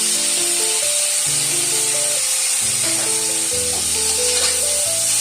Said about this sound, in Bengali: এটার মধ্যে কিমাগুলিকে ঢেলে দিলাম।